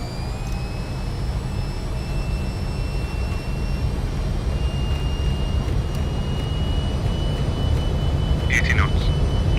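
A Fokker F28 jet on its takeoff roll in Microsoft Flight Simulator 2024 gives a loud, steady engine roar with a low rumble and thin high whines. A voice talks over it.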